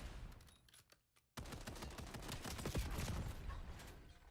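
Rapid gunfire in a Call of Duty tournament match, dense automatic bursts after a brief silent gap, loud and continuous through the rest of the clip.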